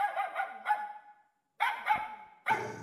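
A dog barks in several sharp, close bursts, a quick run of yips, then a pause, then more loud barks, with no talking over them.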